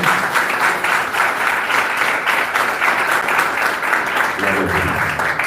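A church congregation claps steadily during a Portuguese-language worship service, dense sustained applause filling the room throughout, with a brief voice near the end.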